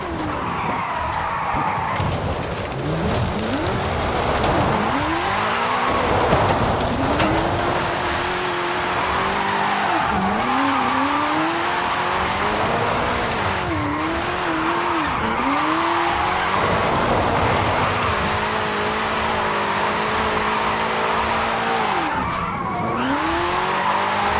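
A car in Forza Horizon 5 drifts through a Mexico drift-club run, its engine revving and wavering while the tyres squeal loudly and continuously, rising and falling with each slide.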